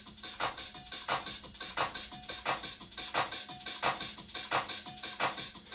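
A looped hi-hat pattern for a happy hardcore track ticks in a quick, regular rhythm of crisp metallic hits, with brighter accents recurring at even intervals.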